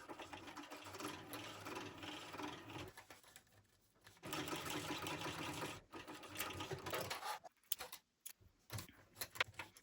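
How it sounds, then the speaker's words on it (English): A sewing machine back stitches on a faux leather shoulder bag near a zipper edge, its motor running in steady, loud bursts with short pauses between them and no voices. "Back stitching."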